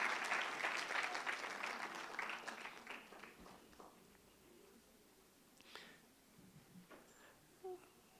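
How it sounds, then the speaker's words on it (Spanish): A church congregation applauding, dense clapping that starts strong and thins out into scattered claps and quiet murmuring voices. "Démosle un fuerte aplauso al Señor."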